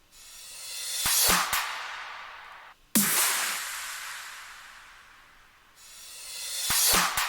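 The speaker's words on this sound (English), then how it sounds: "Then we have these clap fills throughout the drop." Clap fills in a progressive house drop: repeated bright clap hits ride on top of long whooshing noise swells that rise, cut off abruptly and build again, loud and dense with no talking.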